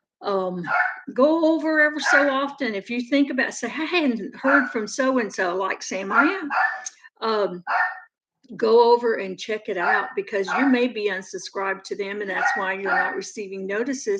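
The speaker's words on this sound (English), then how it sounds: "Sorry about the dog." A dog barks intermittently in the background of a home livestream chat, mostly buried beneath one person's nearly continuous talking.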